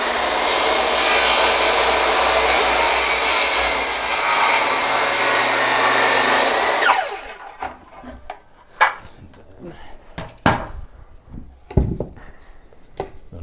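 A power saw makes a cross cut in wood for a scarf joint, a loud continuous whine that runs about seven seconds before spinning down, followed by scattered knocks and clunks as pieces are handled.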